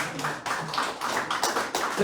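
Audience applause in a large lecture hall at a political forum, a steady patter of hand claps with faint voices mixed in, sustained and fairly even across the moment.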